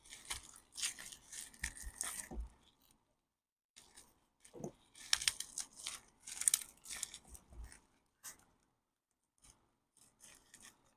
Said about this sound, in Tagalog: gagamitin ko na lang siya ng gunting kasi ang hirap niyang buksan